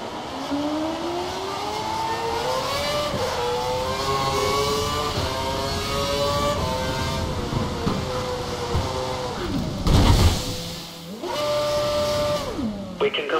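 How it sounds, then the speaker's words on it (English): A Formula 1 car engine in the F1 2012 racing game at Montreal revs loudly, its pitch climbing repeatedly through upshifts, then a harsh burst and a quick drop before rising again. "We think the car behind is running on full revs."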